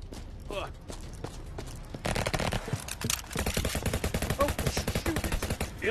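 Submachine gun fire in a VR shooter game played on an Omni One VR treadmill: quiet shots at first, then dense rapid bursts of automatic fire, close and loud, running continuously for several seconds.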